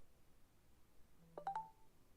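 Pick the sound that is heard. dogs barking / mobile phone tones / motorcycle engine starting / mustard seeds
mobile phone tones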